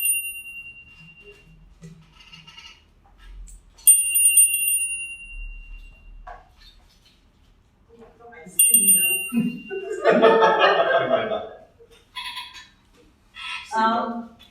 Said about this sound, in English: And this is the high-pitched bell that I'm using.